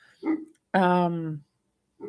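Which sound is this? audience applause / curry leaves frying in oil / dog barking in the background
dog barking in the background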